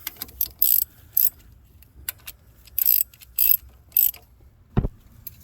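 A ratchet wrench tightens valve cover bolts on a 2008-2012 Nissan Rogue, with short bursts of rapid clicking repeated several times, close up and without talk, ending in a brief low knock.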